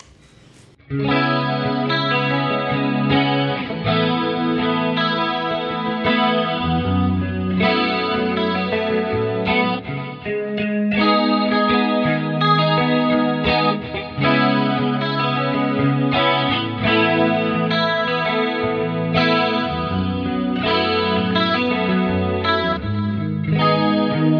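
PRS Archon electric guitar through a Fractal Audio Systems FM3, playing clean arpeggiated chords with a shimmering chorus effect, bright, well-defined highs without harshness, continuous for a long stretch, no voices.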